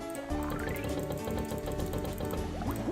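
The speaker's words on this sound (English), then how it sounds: "That sound is me knocking on the tank" Mechanical clicking and ratcheting taps from knocking on a fish tank in the video game Insaniquarium, a rapid repeating rattle layered over busy tonal game music, steady and close throughout.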